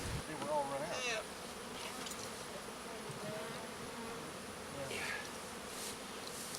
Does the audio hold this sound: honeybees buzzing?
yes